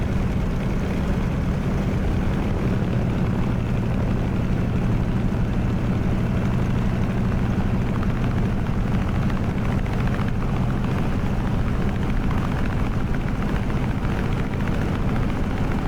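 A warbird aircraft engine runs up to 1700 RPM, a loud, continuous, close-up propeller roar that holds steady and unbroken throughout, with no voices.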